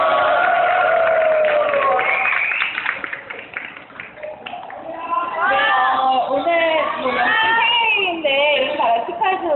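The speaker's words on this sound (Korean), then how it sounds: "박수 한번 또 부탁드릴게요" A crowd of fans at a K-pop fan signing cheers and applauds in a dense wash of high-pitched shrieks and clapping, loud and close, dipping briefly in the middle before surging again.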